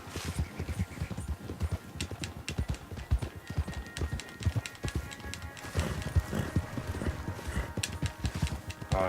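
Rhythmic clip-clop of horse hooves in the video game Red Dead Online, a steady quick gait running throughout, fairly quiet, with a faint neigh near the end.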